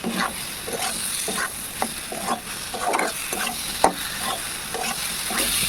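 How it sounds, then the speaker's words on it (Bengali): Soybean chunks, potato and squash stirred in hot oil in a pan, a steady close sizzle broken by repeated scraping strokes of a spatula at an even, unhurried rhythm. "এখন দিয়ে দিচ্ছি সয়াবিন, আলু আর কোয়াশ দিয়ে এখন ভালো করে নেড়ে নিচ্ছি।"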